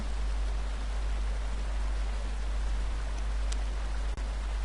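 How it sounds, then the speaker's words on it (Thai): Flowing river water in a zombie video game, a steady, even rushing hiss that continues unbroken from start to finish, with a faint tick or two on top. "อ๋อ เสียงน้ำ"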